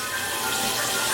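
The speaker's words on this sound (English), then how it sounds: "then you open the water" Steady stream of tap water running into a measuring cup in a home kitchen, a continuous close hiss with no break.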